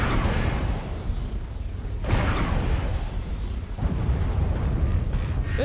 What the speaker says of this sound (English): That AC-20 guy really just shoot me at like 600 meters